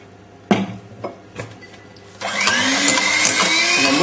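An electric whisk switches on and whirs loudly and steadily as sugar is beaten into a lemon curd soufflé mixture, preceded by a few light clinks and knocks of bowl and utensils.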